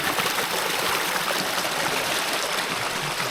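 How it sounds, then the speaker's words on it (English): A mountain stream on the Kokoda Trail near Isurava rushes steadily and close up, a continuous full wash of flowing water with no voices. "And look, another mountain stream as we near"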